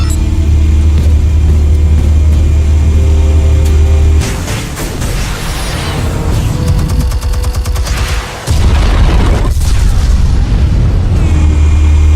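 A series of booming explosions and gunfire-like bursts in the Batman Telltale Series video game, loud and dense with layered rumbling blasts and crackling impacts, with no talking.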